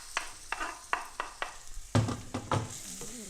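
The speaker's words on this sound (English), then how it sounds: "when they start to sizzle like that, I know it's hot enough" Onions hitting a hot frying pan and sizzling, with a few sharp stirring scrapes and crackles in quick bursts, fairly quiet and close.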